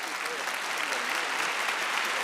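A steady burst of dense clapping and applause runs through the whole stretch at even loudness, sounding like a crowd cheering a podcast moment, with no voices standing out.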